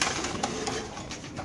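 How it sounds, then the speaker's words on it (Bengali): At a pigeon market, pigeons coo faintly amid a busy, noisy background, with a few short soft calls rising out of the general clatter. "এখানে আছে একটা গ্রিজেল কবুতর"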